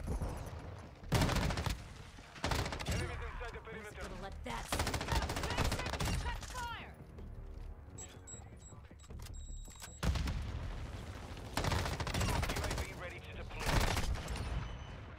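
Rapid automatic fire from an M13B rifle in Modern Warfare 2 comes in dense, loud bursts separated by brief pauses, with a voice talking between the bursts.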